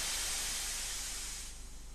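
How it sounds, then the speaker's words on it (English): Slow whoosh of steam from a Thomas toy train, a single loud airy hiss that gradually fades over two seconds, with no other sounds. "When he's sad, he lets out a slow whoosh of steam."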